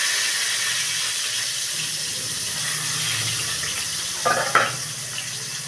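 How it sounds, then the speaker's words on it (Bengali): Pieces of katla fish fry in oil in a pan, making a continuous close sizzle and hiss, with a brief clatter of a utensil near the end. "এরকমভাবে আরো 2 পিস মাছ আছে ভেজে নেব"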